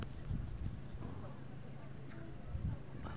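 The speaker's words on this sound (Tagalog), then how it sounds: "Nahilang mga kabayo po na sila diha." Horses clip-clopping on a communal ranch in Bukidnon, a few scattered hoof knocks against steady outdoor background noise with people talking nearby.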